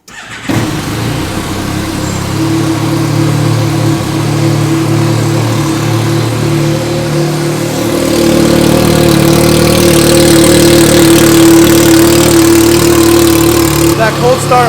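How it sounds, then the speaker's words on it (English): A turbocharged Yamaha YXZ side-by-side idles steadily after a cold start, its engine note loud and close with a strong low drone that grows fuller and rougher as it warms up, running throughout without a break. "That cold start always sounds so good."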